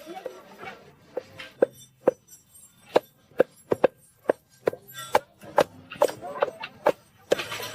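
Sharp knocks and clinks sound at irregular intervals, like utensils and knives working on food in large cooking pots for about 100 people, with faint voices in the background.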